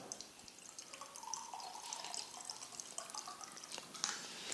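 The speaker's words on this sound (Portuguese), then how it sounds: "Deixa eu só beber uma água aqui agora" A person taking a drink of water, faint liquid sounds with small drips and splashes and a few soft clicks, quiet and intermittent over several seconds.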